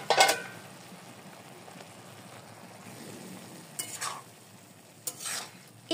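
Cauliflower and other vegetables are stir-fried together in a pan, with a faint steady sizzle and a few short scraping stirs of a spoon against the pan, close up and without talk.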